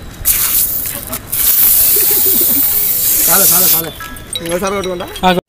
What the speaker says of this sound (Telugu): సర్లే ఇంకా కొట్టుకో స్ప్రే